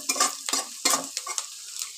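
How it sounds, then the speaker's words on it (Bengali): Onions frying and being stirred in a pan while fish-roe fritter curry is cooked, with a steady hiss of sizzling and several sharp scraping stirs at an irregular rhythm, close and alone. "পেঁয়াজটা দেখো লাল লাল করে ভেজে নিচ্ছি।"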